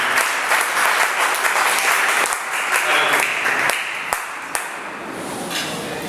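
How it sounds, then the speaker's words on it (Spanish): A church congregation gives loud, sustained applause after a sermon, with dense overlapping clapping, a few sharp louder claps standing out near the end, and some voices mixed in. "Denle un fuerte aplauso, póngase de pie."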